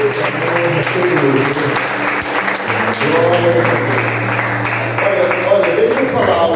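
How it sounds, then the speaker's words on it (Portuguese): A church congregation gathered in a garage breaks into loud, sustained applause, with dense clapping mixed with voices and a steady hum underneath. "E se pode, aplaude o nome dele"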